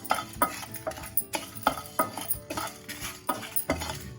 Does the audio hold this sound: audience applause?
no